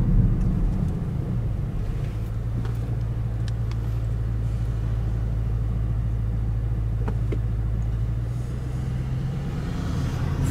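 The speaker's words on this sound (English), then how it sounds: "If you're driving first gear, 20 kilometers per hour, and we just give full gas." A Porsche Panamera Turbo S floors it from about 20 km/h in first gear, its engine a loud, deep, continuous roar that holds steady with no talking over it.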